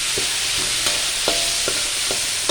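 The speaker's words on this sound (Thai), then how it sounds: "ก็เอาเต้าเจี้ยวลงไปผัดให้มันหอม" Fermented soybean paste is stir-fried in a pan, giving a loud, steady sizzle with regular scraping stirs roughly every half second, close and alone.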